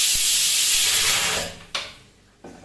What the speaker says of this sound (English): So now I will be frying this fish